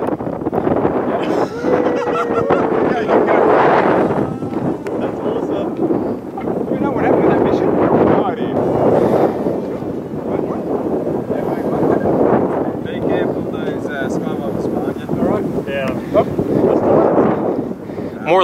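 Strong gale-force wind buffets the microphone at an airfield where a small model wing is flown. Loud continuous rumbling gusts fill the whole clip, and voices are partly heard beneath it.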